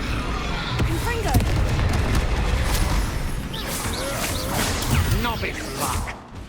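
Confringo spell explosions in the Hogwarts Legacy video game, booming blasts and crackling bursts stacked over swirling magical whooshes during a busy duel, with voices shouting among the effects.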